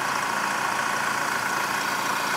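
A Honda CR-V 2.2 i-CTDi diesel engine idles with a steady, even drone that holds at one level throughout, with no voices over it.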